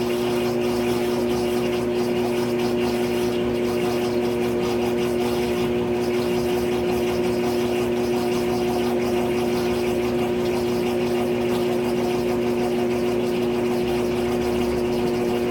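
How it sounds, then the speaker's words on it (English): A GE GTW680BS6JWS top-load washing machine on a delicate cycle starts a slow spin and keeps running, giving a steady humming motor drone with a tonal whine, close and constant throughout. "This one just does a slow spin and just speeds up from there"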